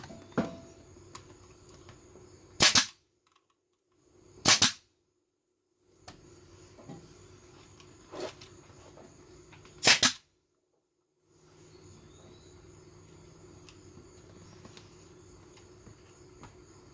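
Staple gun firing into vinyl stretched over an ATV or motorcycle seat: four sharp, loud snaps spaced a couple of seconds apart, close by, over quiet background shuffling.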